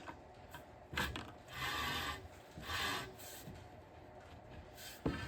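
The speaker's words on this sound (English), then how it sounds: "Okay, so I have the linear rail here. I'll take it and try to push these out." Carriage blocks slide along a linear rail on a plasma table gantry, giving a close, gritty rasping and rolling sound in several short pushes with clicks at the start and end.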